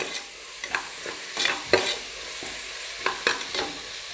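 Ginger, garlic, cinnamon, cloves and cardamom sauté in hot oil in a pan for vegetable biryani, a steady sizzle broken by several sharp scrapes and clinks of a spoon stirring, close and clear, no voices.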